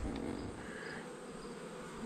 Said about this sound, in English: I get mesmerized by my bees.